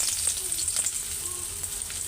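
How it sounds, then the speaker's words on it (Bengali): Onions sizzle in hot oil in a pan while a prawn curry is started, a steady close frying crackle with faint scattered pops and no voices. "তেল তো গরম হয়ে আসছে, পেঁয়াজগুলি দিয়ে দিই"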